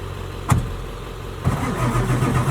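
An old Ford OBS 7.3 Powerstroke diesel engine, sitting abandoned for ten years, cranks over as a start is attempted, with a sharp click before a rough, rumbling churn builds and carries on steadily, close and fairly loud.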